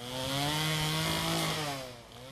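Chainsaw carving wood, a loud, close engine whine that holds steady through the cut and then drops in pitch as the saw eases off, with no voices.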